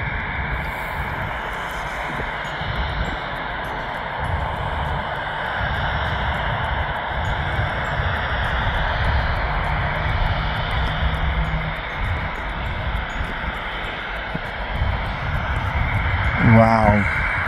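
A Jet2 airliner's jet engines roar steadily at an airport, a loud continuous broadband drone that swells slightly toward the end, with voices faintly present.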